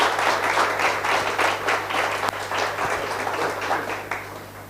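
Sustained audience applause fills a lecture hall at a national graduates' meeting on higher education, steady, dense clapping from many hands throughout, with no voices over it.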